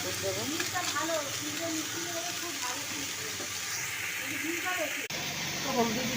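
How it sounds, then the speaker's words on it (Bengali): Vegetables frying in oil with panch phoron and green chillies in a home kitchen, a steady close hiss and sizzle running throughout, with a voice speaking over it. "তেল দিয়ে পাঁচফোড়ন দিয়েছি কাঁচা লঙ্কা দিয়েছি সমস্ত সবজি দিয়ে ভালো করে ভাজবো"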